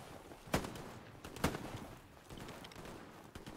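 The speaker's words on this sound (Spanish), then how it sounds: "Disparos por la izquierda, ¿eh?" Gunfire in the World War II shooter Hell Let Loose: two sharp, distant shots ring out about a second apart, followed by fainter scattered pops in the background.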